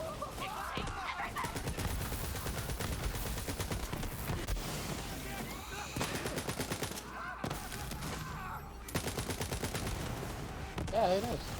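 Dense gunfire from a Borderlands 3 video game firefight, with rapid shots running almost the whole time alongside other game effects and talk.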